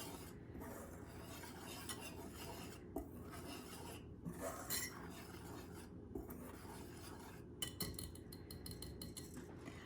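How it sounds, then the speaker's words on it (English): Bagel dough ingredients for an air fryer recipe are whisked together in a bowl, giving faint, steady scraping and tapping that repeats without pause, with no voices. "And I am just going to whisk that all together."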